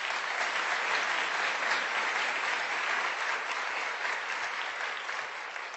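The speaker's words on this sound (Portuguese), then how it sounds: "Por favor, aplaudam elas." An audience in a lecture hall applauding two women who stand up, a sustained dense clapping that holds steady for several seconds and only slightly fades at the end, with no speech over it.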